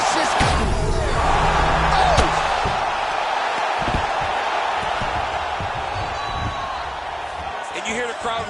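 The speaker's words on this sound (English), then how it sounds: "you hear the crowd react every time they come together" An arena crowd in the UFC 4 fighting video game swells and murmurs under a commentator's voice, with sharp thuds and slaps of strikes landing throughout.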